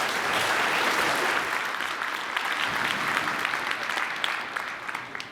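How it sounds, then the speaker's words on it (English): An audience applauds at a programming talk on async, a dense, sustained wash of clapping from many hands that holds steady and then begins to taper off. "A round of applause,"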